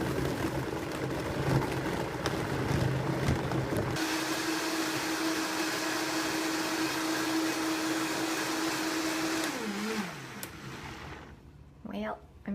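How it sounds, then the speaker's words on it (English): A Vitamix blender running with a smoothie of dates, flaxseed and romaine, a loud steady whir that shifts to a higher pitched drone midway, then ramps down and stops near the end. "Got my Vitamix all set up."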